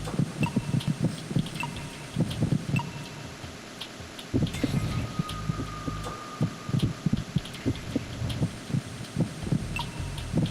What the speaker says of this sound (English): Not that I know what a heartbeat is supposed to sound like from this directional microphone